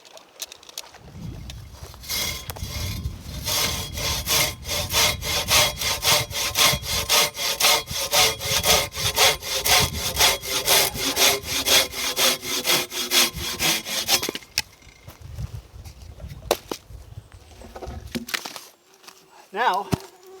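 Handsaw cutting through wood for camping firewood, a steady run of rapid, loud back-and-forth strokes for about fourteen seconds, then stopping, followed by quieter scraping and handling noises outdoors.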